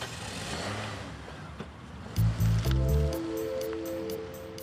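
A Porsche engine gives a couple of short, loud low-pitched bursts, then settles into a steady tonal running note against a broad outdoor rush.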